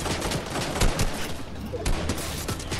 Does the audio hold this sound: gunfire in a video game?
yes